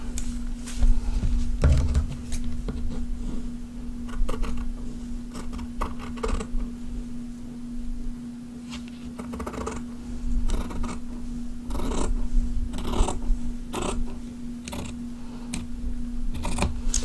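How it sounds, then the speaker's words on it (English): Scissors cutting fabric for a mini notebook, a series of close, crisp snips in irregular bursts over a steady low hum. "use maybe this line right here to cut the fabric away, because I don't need it to go all the way to the bottom"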